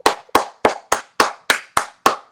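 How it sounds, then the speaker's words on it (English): Eight sharp, evenly spaced hand claps ring out one after another in a steady, unhurried rhythm, each crisp and close with a short decay, and no voices are heard. "delayed clap"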